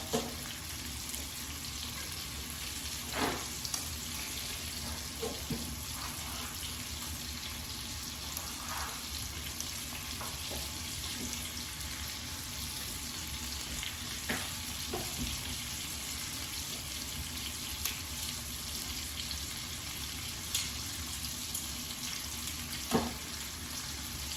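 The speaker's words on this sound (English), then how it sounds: "While these are finished up frying" Steady hiss of breaded pork chops frying in a pan, a continuous crackling sizzle with occasional louder pops, no voices.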